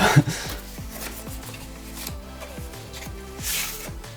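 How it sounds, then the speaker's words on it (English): Cardboard packaging around a walnut-finish wooden headphone stand being opened, with close rubbing and scraping, a steady run of small creaks and a few louder rustles near the start and end. "So this is also packed in some kind of cardboard packaging."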